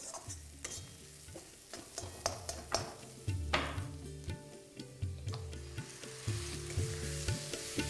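Chopped tomato hits a hot spiced pan for potol masoor dal over low flame, sizzling steadily while a spoon stirs and scrapes in repeated strokes, close and fairly loud with bright crackle bursts throughout.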